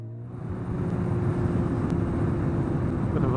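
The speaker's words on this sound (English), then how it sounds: "Bit of a farm looking vehicle" A farm vehicle driving on the road ahead while riding through Wiltshire, heard as a steady rumbling engine and road drone that rises and holds at a loud, constant level.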